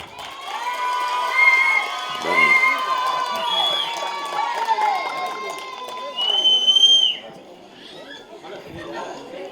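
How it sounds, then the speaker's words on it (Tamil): A crowd of children at a film audio launch event in Puducherry cheers and shouts in bursts, with someone speaking over the noise through a microphone and music playing faintly underneath. "நல்லா கைத்தட்டணும்."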